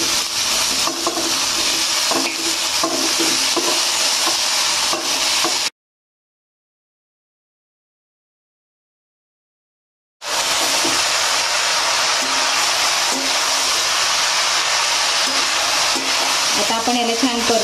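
Rice for sweet coconut rice sautéed in a pan with cloves and cardamom: a dense, rough frying and stirring hiss that cuts to total silence for a few seconds, then resumes just as steadily.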